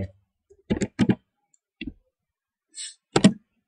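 A computer mouse clicks while working in Google Forms, with several crisp close clicks, some in quick pairs, separated by silence.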